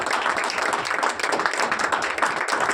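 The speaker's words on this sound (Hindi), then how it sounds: "जोरदार ताली होनी चाहिए" A seminar audience claps loudly for a leader coming on stage, a dense, lively crowd of hands with quick uneven rhythm and some voices mixed in, continuing strongly throughout.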